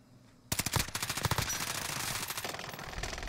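Rapid automatic gunfire rattles through a video game shootout, starting abruptly as a loud, close string of shots that thins into quicker, lighter reports.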